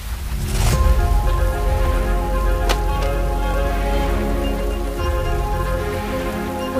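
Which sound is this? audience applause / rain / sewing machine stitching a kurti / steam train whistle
rain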